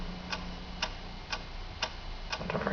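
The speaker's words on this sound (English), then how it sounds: "What is that mysterious ticking noise?" A mysterious ticking from a comedy puppet sketch sounds as five evenly spaced sharp clock ticks about half a second apart, with a faint low hum beneath and a rising murmur near the end.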